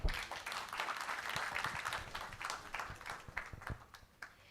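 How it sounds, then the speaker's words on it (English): An audience at a film festival panel gives a round of applause, a fairly quiet, steady patter of many hands that thins toward the end with scattered final claps. "please give a huge round of applause for Mr. Chaitanya."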